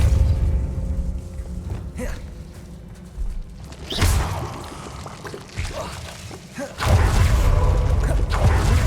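Spell effects burst and whoosh in Hogwarts Legacy, a fiery Incendio and a forceful Compulso, with several booming thuds and a rushing swell near the end, loud and close over a faint ambient bed.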